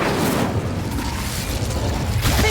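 An Incendio fire spell is cast in Hogwarts Legacy, a dense whooshing burst of flame and crackle that fills the whole moment loudly and evenly.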